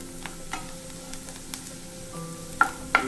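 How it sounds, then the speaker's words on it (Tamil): Onions sautéing in oil in a pan for cabbage poriyal give a soft, steady sizzle close by, with a few light clinks and ticks of a utensil near the end and no talk. "வெங்காயம் இந்த அளவுக்கு வதங்கினா போதும்."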